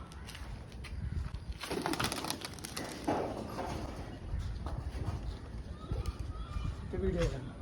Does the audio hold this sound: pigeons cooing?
yes